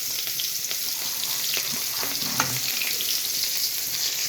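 Onions sizzling in hot oil for a dried fish curry, a steady broad hiss with faint stirring clicks and scrapes, close and moderately quiet.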